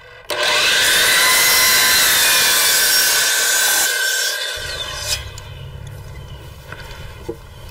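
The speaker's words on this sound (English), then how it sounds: "Then we'll cut a piece that's 21 inches and 3/16 from long point to long point with a 45 degree bevel on each side" Power saw cutting a wood piece at a 45 degree bevel for a manual machine's back brace: a loud, steady whine for about four seconds, then winding down, with a low hum and small clatters afterward.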